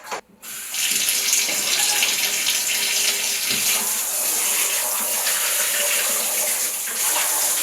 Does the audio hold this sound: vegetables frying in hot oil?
no